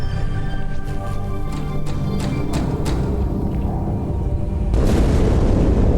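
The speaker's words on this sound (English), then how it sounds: "That explosion came from inside the Athens, same as the Malta." A heavy explosion rumbles through a Halo game scene, with several booming bursts in the first seconds and a stronger, broad blast near the end. The sound is loud and continuous, with no voices.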